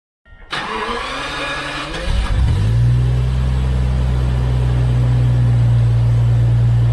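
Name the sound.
V12 engine starting and revving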